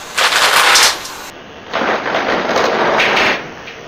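A homemade Nerf-style SMG-12 blaster fires in two rapid bursts, each a close, noisy rattling whoosh lasting around a second, separated by a short pause.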